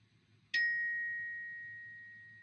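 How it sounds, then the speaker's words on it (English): A single bright mobile phone notification ding rings out once, sharp at onset, then a clear tone lingers and slowly fades over a faint low hum, with no talking. "Well, that's my phone going off again."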